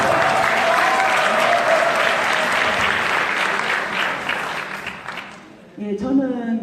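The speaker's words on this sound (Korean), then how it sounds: "박수 부탁드립니다." Audience applause in a Korean auditorium for a provincial governor, a dense, loud wash of many hands clapping that holds steady, then thins and fades out before a voice begins speaking.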